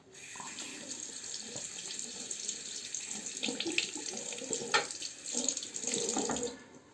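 Running tap water pours steadily close by while a Muhle R41 open comb razor is rinsed under it, with splashes and clinks as the razor moves through the stream.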